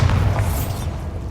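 A Bombarda blasting spell goes off in Hogwarts Legacy, a heavy, close explosive boom with a deep rumble that fills the whole clip and slowly tapers.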